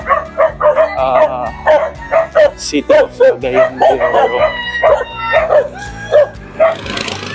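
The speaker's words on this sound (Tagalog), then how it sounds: "May aso." A dog barks in quick, repeated bursts, some yippy and whining, close by, while a person talks briefly over it.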